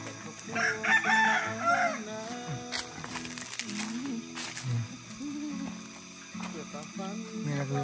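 Roosters crow and chickens cluck around a hillside farm, several long rising crows overlapping with steady background calls, while a person talks and animal noises continue throughout.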